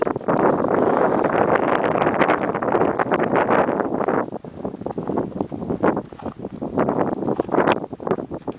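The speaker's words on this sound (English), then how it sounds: "It's a little windy out here too." Wind blows across the microphone at an outdoor shooting range, a loud, rough, steady buffeting that dips briefly halfway through and then gusts again.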